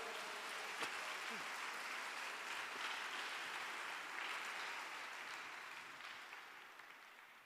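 Congregation applause during a church service, faint and somewhat distant, a soft wash of clapping that holds evenly and then tapers toward the end.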